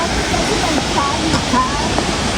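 Shiraito no Taki waterfall rushes as a steady, broad roar of falling water, close and continuous throughout, with no talking heard.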